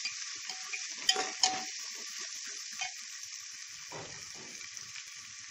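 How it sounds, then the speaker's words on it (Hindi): Onion and ginger fry in oil over a medium flame, giving a steady, fairly quiet sizzle with a few soft stirring scrapes and clicks along the way. "2 से 3 मिनट तक प्याज अदरक को फ्राई कर लेंगे मीडियम फ्लेम पे"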